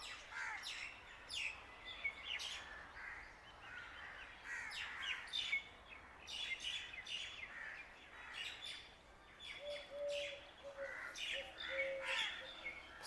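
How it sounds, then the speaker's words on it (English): Birds chirp around a quiet, tranquil shrine and mosque ruins in Punjab, India, with repeated sharp calls and a few crow-like caws rising over a soft, still background from start to finish. "So tranquil here, except for the birds."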